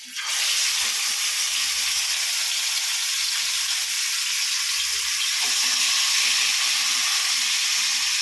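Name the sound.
jilebi (tilapia) fish frying in oil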